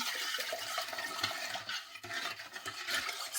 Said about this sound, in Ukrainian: І все це гарно розмішуємо